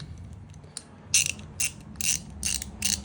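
A hand ratchet clicks in short, crisp bursts as it tightens screws on an ECS monoball in an Audi B8; close and fairly quiet, five or six quick runs of pawl clicks.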